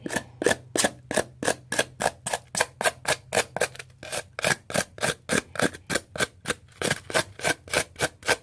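A wood carving tool scrapes dollhouse landscaping material in quick, even rhythmic strokes, about three per second, crisp and close with a faint low hum behind.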